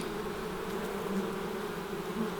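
Bees hum and buzz in a steady, dense drone near a hive, continuous and close, with no voices.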